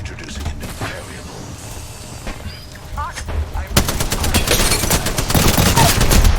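Video game gunfire: scattered shots and game sounds at first, then a dense, loud burst of rapid automatic fire in the last few seconds, with a voice speaking over the action.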